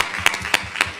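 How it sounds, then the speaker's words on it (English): Brief applause at a public policy forum, with a few sharp, distinct claps standing out over a soft background patter. "Everybody give a big round of applause"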